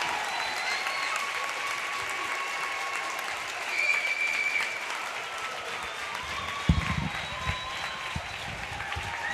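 A crowd applauds steadily through the closing seconds of a high school women's basketball game between Loretto and Cheatham County, the clapping sustained and broad, with faint voices and scattered cheers mixed in.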